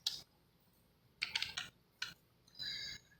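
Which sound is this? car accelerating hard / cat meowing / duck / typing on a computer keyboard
typing on a computer keyboard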